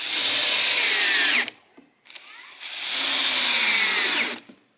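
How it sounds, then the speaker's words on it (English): A power drill drives screws into the wooden footboard of a storage bed built for a tiny house. Two loud, close whirring bursts of about one and a half seconds each are separated by a brief pause. "let's screw it down"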